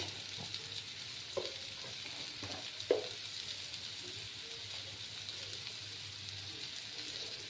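Ground cumin sizzles softly in a hot pan while cooking a pepe-and-potato tengra fish curry, a low continuous frying hiss with a few light scrapes and stirs and no talking.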